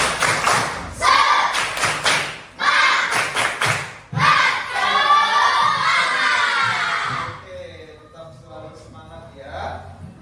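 A classroom group does rhythmic spirit clapping, with bursts of patterned claps and thumps mixed with children's shouted chanting, loud and close, trailing off into quieter voices.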